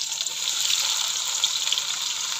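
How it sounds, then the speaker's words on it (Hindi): Onions hitting hot oil in a pan for fish curry, a steady bright sizzle that holds evenly throughout, close and moderately loud with no voices. "प्याज जो ऑयल है वो गर्म हो गया, तो अभी डाल देते हैं प्याज।"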